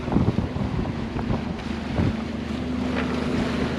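Wind buffets a sailboat on an ocean inlet as it rocks through boat wake, a steady gusty rush with water slaps and thumps, no voices.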